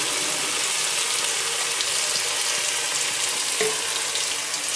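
Cauliflower manchurian fries with soy sauce in a hot pan, giving a loud, steady sizzling hiss throughout, with a faint clink near the end.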